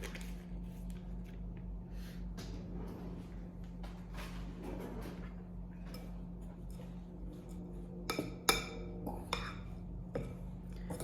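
Butter being mixed into the topping for an old-fashioned apple cranberry crisp, soft squishing and scraping strokes near at hand with light clinks of utensil on bowl, a few sharper knocks toward the end, and quiet background noise.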